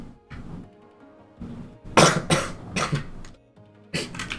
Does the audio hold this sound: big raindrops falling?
no